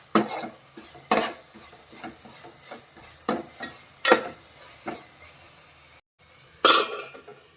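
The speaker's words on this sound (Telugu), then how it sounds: "కొద్దిగా వెల్లుల్లి పేస్ట్ వేసుకుందాం. బాగా వేయించుకుందాం." A spoon stirs and scrapes garlic paste and masala frying in a pan for tomato rice, with irregular clanks and scrapes against the metal over a soft sizzle, close up and without talk.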